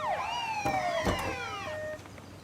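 Police and fire brigade sirens arrive with several overlapping wailing tones that sweep up and down together, loud and near, with no voices over them.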